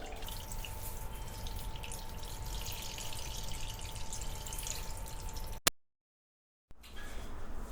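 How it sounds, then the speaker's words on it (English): Thin coconut milk pours from cartons into a pot for an Icelandic lamb massaman curry. A steady, continuous liquid stream runs for several seconds, cuts abruptly to silence, then briefly resumes. "I poured basically the liquid, the thin coconut milk from both cartons, with a bit of the actual coconut cream"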